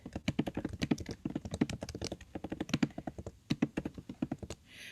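Rapid, uneven keystrokes on a computer keyboard, a close and steady run of clicking taps for about five seconds, with no voices over it.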